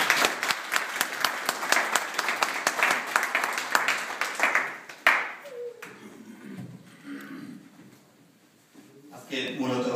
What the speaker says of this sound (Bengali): আমরা জোরে একটি হাততালি দিয়ে লেখক অভিনন্দন জানাই।